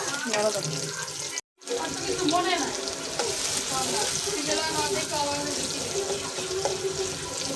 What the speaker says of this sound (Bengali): যে রসুন আর পেঁয়াজ কষাইতেছি